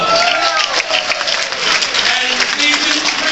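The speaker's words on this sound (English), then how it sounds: "Let's give Pinky Joggy a round of applause." Crowd applauding at a campaign kickoff rally for a congressional general election, a dense, loud wash of clapping and cheering voices that rolls on steadily throughout.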